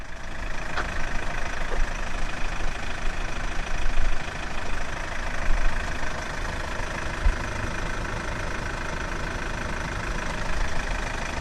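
A 2014 Hyundai i30 1.6 CRDi 110 Blue Drive diesel idles with the hood up, giving a steady, close clattering hum with a faint knock and no voices.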